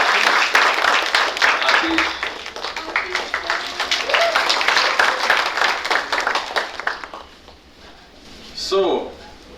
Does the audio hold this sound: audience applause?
yes